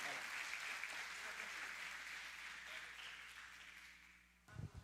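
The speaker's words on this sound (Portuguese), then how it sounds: "aplaudindo ao Senhor nosso Deus." A church congregation applauds in praise, a dense, steady wash of clapping lasting several seconds that gradually thins out, with a voice or two appearing at the very end.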